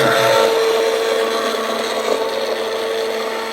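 A steady, high-pitched whirring blender motor grinds on without pause while mixing a mango cream, fairly loud and close.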